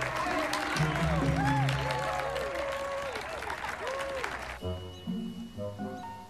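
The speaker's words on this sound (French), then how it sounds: "On vous applaudit." A crowd applauds and cheers a surprising electronic music performance in a French animated series, clapping layered over whistling synth tones and music that cuts abruptly to a quieter cue near the end.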